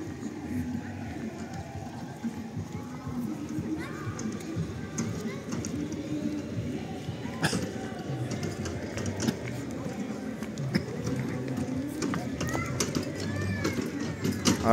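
Pigeons coo outdoors at a resort market in Truskavets near a train and shopping centre, amid a busy wash of crowd murmur, clatter and people talking nearby.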